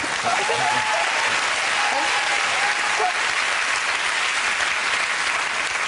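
Steady, sustained studio audience applause fills the whole stretch at an even level, with faint voices briefly audible early on beneath the clapping.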